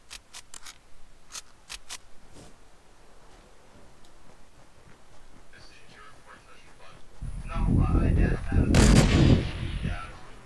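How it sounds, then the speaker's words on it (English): Fortnite gunfire in a duo match: a few sharp, quick cracks at first, then a loud, booming, rumbling burst from a sniper rifle shot, with quiet game sounds and faint voices around it. "He weaved that sniper shot."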